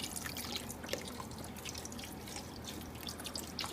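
Stock poured into a pot while making African suya, a continuous trickling, splashing liquid stream with scattered drips, close and steady throughout without speech.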